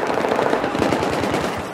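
Rapid, sustained automatic fire from an AK rifle in the shooter game Battlefield 4, a dense unbroken burst of loud cracking shots with no voices over it.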